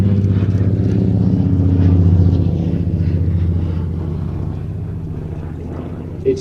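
A steady, droning aircraft engine hums close and constant with a low throbbing rumble, fading slightly over several seconds.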